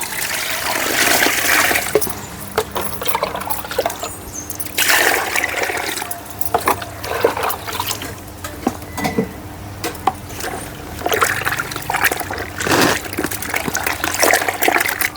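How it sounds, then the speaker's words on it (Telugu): A bucket of water is poured into a cow dung mixture, splashing and gurgling in uneven bursts, with brief gaps and a trickling finish. "బకెట్ నీళ్ళు పోసుకొని"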